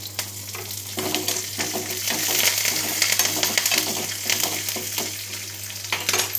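Curry leaves, green chillies, cumin and mustard seeds spluttering in hot oil for a lemon semiya pulihora tempering, a steady bright crackling sizzle with sharp pops and stirring scrapes throughout, no talk.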